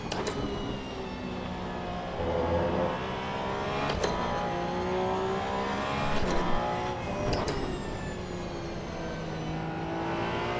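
Race car engine in the video game Assetto Corsa EVO during online multiplayer, a steady droning engine note with shifting pitch and a few sharp gear-change blips, moderately loud throughout.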